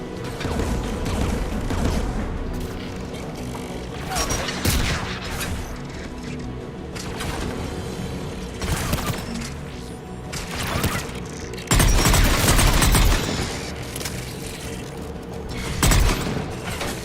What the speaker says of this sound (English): One of us has to shut down that AA gun